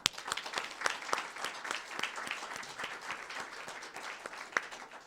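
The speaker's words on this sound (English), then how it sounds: "a great round of applause to the Vancouver Football Club" A conference audience applauds steadily throughout, dense clapping with a few sharper individual claps standing out, fairly near and moderately loud.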